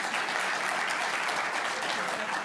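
Sustained, dense applause from a lecture audience at the 2019 Chauncey Lecture on Henry Stuart Foote, a steady even roar of many hands clapping throughout, with no break.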